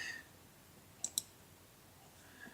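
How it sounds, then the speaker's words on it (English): Two quick computer mouse clicks close together, sharp and close, against a quiet background while using article-spinning software. "So if I click on the word anybody"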